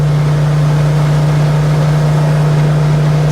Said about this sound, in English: let's get her up to 75.